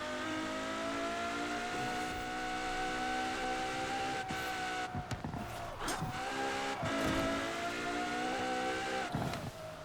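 A racing car roars through Forza Horizon 4, its engine holding a steady high whine that rises and dips with gear changes, with brief tire squeals and bumps along the way, loud and continuous with no talk.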